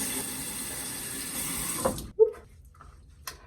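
Warm water runs from a tap into a sink in a steady hiss for about two seconds, then cuts off, followed by a few faint drips and small handling sounds.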